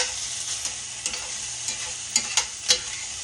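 Sweet potatoes and pork chops fry in a pan on a stovetop turned up high, a steady bright sizzle punctuated by several sharper crackles and pops, with no talking.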